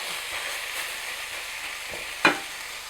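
Ground meat frying in a pan with a quarter teaspoon of salt, a steady close sizzle running throughout while it is stirred and broken up, with one sharp scrape of the utensil against the pan near the end.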